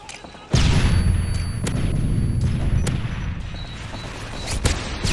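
Dense gunfire from a Call of Duty Search and Destroy match: a sudden loud burst followed by continuous rumbling fire with repeated sharp shot transients over a heavy low background.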